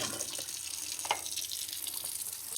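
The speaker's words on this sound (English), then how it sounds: "you're going to want to turn the cold water on" Cold water runs steadily from a kitchen faucet into a sink, a continuous close splashing hiss with a brief louder splash midway.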